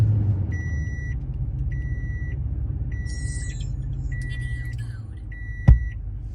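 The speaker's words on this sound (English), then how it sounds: "Get the truck fired up and radio on." A truck idles with a low engine rumble while an aftermarket 10.2-inch dashboard radio powers on, giving a series of regular electronic beeps, a short chime and a brief click near the end.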